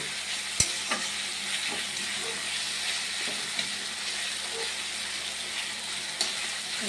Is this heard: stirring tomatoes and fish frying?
yes